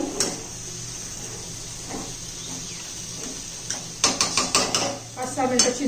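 A metal lid set onto a pot of chicken dum biryani with chicken, yogurt and its own juices, giving several close clanks and knocks in a short burst after a quiet stretch of low kitchen hum.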